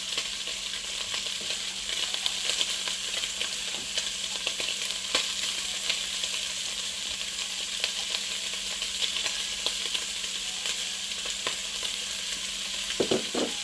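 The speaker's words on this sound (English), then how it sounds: "There we go, getting that sear on it." Meat sears in a hot pan with onion, giving a loud, continuous frying sizzle with occasional crackles and a few clinks of a utensil near the end, with no voices.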